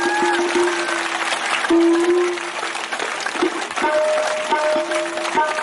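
An audience at a Bhagavat Katha telling of Rukmini and Krishna's wedding claps to welcome the garlanding, a scattered, moderately loud clapping mixed with musical tones and sustained notes.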